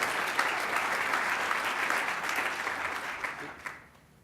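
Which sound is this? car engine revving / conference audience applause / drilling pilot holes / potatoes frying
conference audience applause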